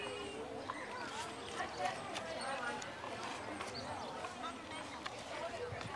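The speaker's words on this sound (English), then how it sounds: "Very well behaved horse." Horse hooves clip-clop on pavement during a horse and carriage parade at the West Virginia Strawberry Festival, a steady patter of hoofbeats mixed with crowd noise and people talking nearby.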